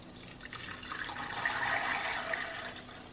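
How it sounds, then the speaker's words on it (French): Water being poured into a small appliance so it sits just above the heating element, a steady continuous splashing and trickling pour that builds slightly and stays close, with no voices. "Donc là je vais mettre l'eau et je vais vous montrer ça."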